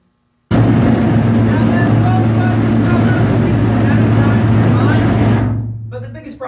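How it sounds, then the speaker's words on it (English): Submarine engine recording played back at a little over half the volume of one engine: an abrupt start into a loud, steady low droning roar with a strong hum, cutting off near the end as faint voices follow. "I actually have a recording I could play for you all if you'd like to hear it. It's a little bit over half the volume of one engine."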